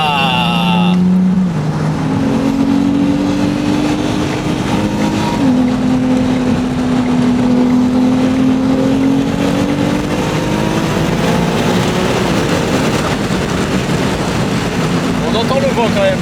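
A Ferrari 296 GTS drives with its roof open, its engine droning and rising in pitch as it accelerates, under heavy steady wind rush and roar from the open cabin. The sound is loud and continuous, with no speech.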